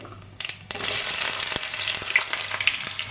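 Chopped onions dropped into hot oil already crackling with bay leaves and whole cumin, a steady loud sizzle with brief stirring scrapes and crackles throughout.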